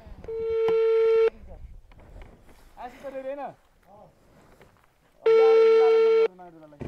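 A telephone call rings through without an answer: two long electronic ringback tones, near and clear, with a voice murmuring in the gap between them.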